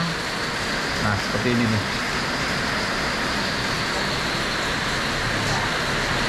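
Steady rain patters loudly and continuously throughout during a lakeside camping trip, with someone speaking briefly over it.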